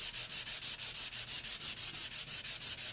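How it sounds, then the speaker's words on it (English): Chalk-style paint on an end table being hand-sanded, a steady back-and-forth scratching of abrasive on the painted surface in an even rhythm of roughly five strokes a second, close and alone. "sand it down a little bit more."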